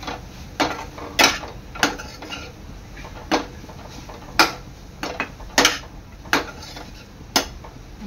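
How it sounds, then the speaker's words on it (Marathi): A spoon stirs cardamom powder into sweet modak filling in a metal pan, making about a dozen sharp, irregular clinks and scrapes against the pan at close range, with no talk. "आता वरून मी टाकणार आहे आपली वेलची पावडर। मिक्स करून घ्यायचं आहे।"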